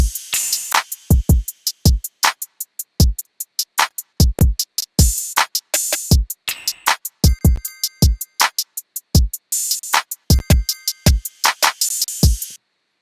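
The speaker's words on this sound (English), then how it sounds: "for all of our drums together, including the 808, which is playing this pattern" A looping drum beat with punchy kicks, sharp crash hits and deep booming 808 bass, played steadily with no voices.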